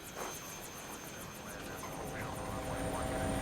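A helicopter in a BBC radio drama, its rotor beating in a steady fast chop with a high whine, holding near and loud throughout and growing slightly fuller toward the end, with no voices.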